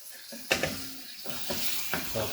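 Lamb searing in a hot pot for Jamaican lamb stew, a steady soft sizzle broken by several sharp stirring scrapes and clatters of the spoon against the pot, close by with no talking.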